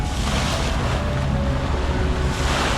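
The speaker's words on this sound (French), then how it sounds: "ce ne sont que les vaguelettes de tous ces bateaux à moteur" Small waves from passing motorboats lap against the hull of a sailboat at anchor near Saint-Tropez, a continuous close wash of water mixed with heavy wind buffeting, and no voices.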